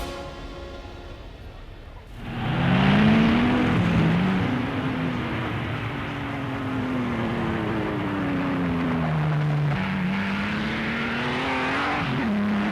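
Silver Arrows racing cars from prewar Grand Prix racing, their engines roaring loudly as one sweeps past with a rising and falling whine, sustained and close, following a quieter opening stretch.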